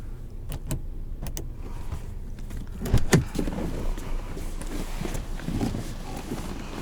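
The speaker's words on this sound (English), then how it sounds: "Automatic windows" Power windows on a 2017 Volkswagen Passat SEL Premium run with a low motor whir inside the cabin, with a few sharp clicks and a brief louder surge midway.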